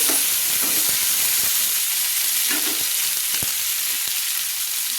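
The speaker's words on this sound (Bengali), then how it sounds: "টমেটোগুলো দিয়ে আমি ভালো করে একসঙ্গে নেড়ে নিচ্ছি খুন্তি দিয়ে।" Tomatoes sizzle steadily in hot oil as a spatula stirs them, with a continuous bright frying hiss broken by occasional scraping clinks, close and loud with no talking.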